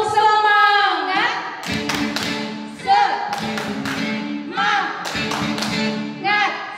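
Several rounds of rhythmic hand clapping by a group at a church Sunday school service, sharp bursts alternating with short pauses, mixed with chanted voices.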